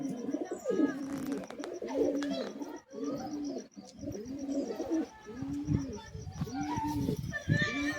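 Pigeons coo repeatedly in low, rolling phrases, several birds overlapping at close range at a pigeon sale, with faint chirps and background activity.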